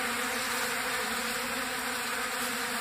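Mason bees swarm and feed on a hand, producing a dense, unbroken buzzing hum close by with no voices.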